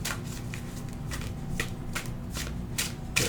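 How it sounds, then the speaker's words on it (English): Playing cards drop from the thumb in a hand shuffle, giving a string of soft, quick riffling flutters in an even rhythm, near and clear with no speech. "Your thumb will loosen the cards to let them fall."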